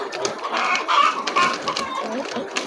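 Several chickens cluck and murmur close by, a busy overlapping chatter of short calls with no talking.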